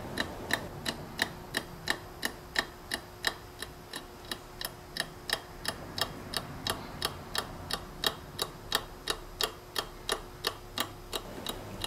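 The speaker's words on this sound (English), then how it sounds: "I'm simply providing some torque to an arbor underneath the top panel. Listen to that beautiful ticking sound." A handmade model tourbillon clock mechanism, driven by torque on an arbor, ticks in a steady, even rhythm of sharp metallic clicks, about two per second, close and clear over a faint hum.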